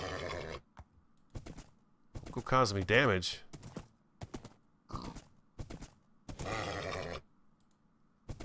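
A brown Minecraft horse whinnies in a short rising burst amid game sounds, with someone talking over and between the calls.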